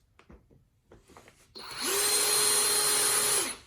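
After a few quiet handling clicks, a power drill whirs up and runs steadily for about two seconds at close range, then winds down.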